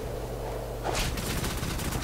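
Sustained burst of rapid gunfire crackling through a scene in the video game Rogue Trooper, rattling on for about a second after a low rumbling lead-in.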